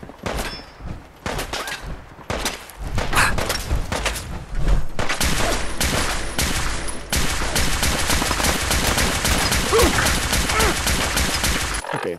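Rapid automatic gunfire in Fallout 4, sustained bursts of loud shots rattling almost continuously with short pauses, close and harsh.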